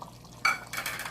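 A spoon scrapes and stirs through cauliflower and mutton curry in a pot, with two short bursts of clinking and scraping after a quiet moment, close and moderately loud, without speech.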